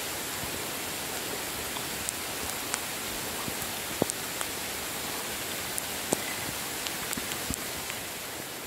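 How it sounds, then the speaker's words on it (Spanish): Heavy rain pours down in a steady, dense hiss that fills the whole stretch, with occasional sharper drops or taps standing out from the wash. "Pero sí nos cayó un buen aguacero"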